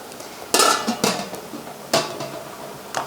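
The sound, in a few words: putting the lid back on a blackberry jam canning pot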